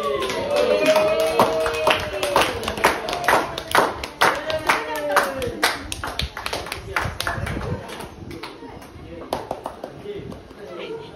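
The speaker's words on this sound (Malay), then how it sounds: "Tepuk tangan sikit" A classroom of students applauds during an art lesson, a steady run of crisp hand claps close by, gradually thinning out, with voices talking underneath.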